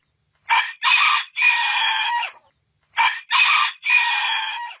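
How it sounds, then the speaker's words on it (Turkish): A rooster crows twice, each loud, close crow breaking into several drawn-out segments, with a short silence between them. "Ötüşünden Ekmelettin ismine benzer bir ses çıkan horoz"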